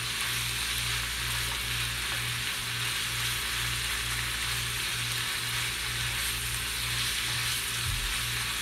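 Ham frying in a nonstick pan on medium-high heat, a steady close sizzle with a faint regular pulsing hum underneath, continuous and without talk.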